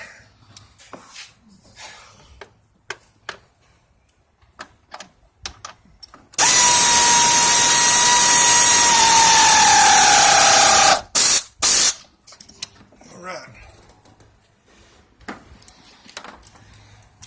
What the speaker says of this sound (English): every time I use that air ratchet